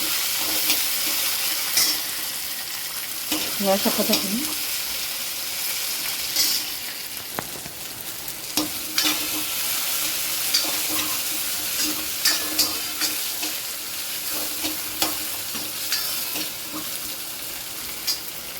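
Tomatoes sizzle in hot oil as a spatula scrapes and stirs the pan now and then, with a few brief spoken words over it.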